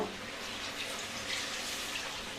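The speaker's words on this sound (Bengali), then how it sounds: "এবার আমি পরিমাণ মতন জল দিয়ে দেবো" Water pours steadily into a pot of fried goat head curry, a soft, continuous splashing rush heard close up and alone.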